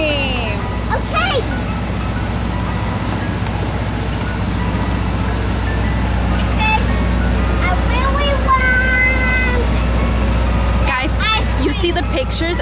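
A real Mr Softee ice cream truck in New York City plays its chiming jingle over loud street traffic and engine rumble, with people talking throughout.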